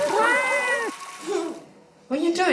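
Several drawn-out cat meows, loud and close, with a short pause between calls and a rising, wavering final meow.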